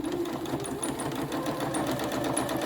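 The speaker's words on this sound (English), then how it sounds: "we're going to sew straight up the middle" A domestic sewing machine stitches fabric in a straight line up the middle of a festive corn decoration, giving a close, fast, steady mechanical whir with rapid needle ticks.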